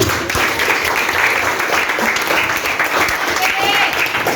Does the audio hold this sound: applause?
yes